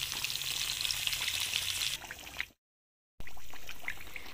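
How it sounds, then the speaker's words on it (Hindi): Fish fries in a pan over a low flame, a steady close sizzle and crackle that thins out, drops to a short silence, then resumes just as strongly. "ले जी ये तो हल्की आंच पे फिश फ्राई हो जाएगी"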